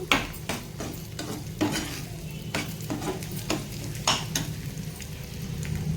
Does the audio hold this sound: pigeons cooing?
no